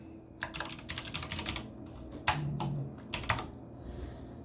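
Quick bursts of typing on a computer keyboard, a name being keyed in with several short clusters of crisp clicks separated by pauses, close and fairly quiet.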